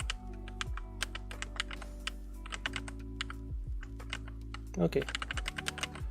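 Rapid clicking keystrokes on a new computer keyboard during TETR.IO play, steady fast typing close to the microphone, with a brief spoken word partway through.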